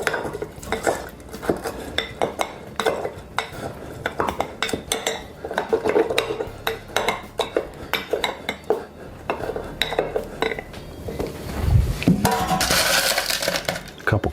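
Mint leaves and simple syrup muddled in a glass for a bourbon cocktail, giving repeated clinks and knocks against the glass in an uneven rhythm, close and fairly loud, with no talk.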